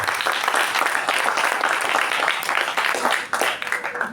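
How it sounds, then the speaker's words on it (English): A room of Toastmasters meeting attendees claps together in dense, sustained applause, steady and fairly loud throughout the few seconds before it starts to thin out. "Let's give a round of applause to him."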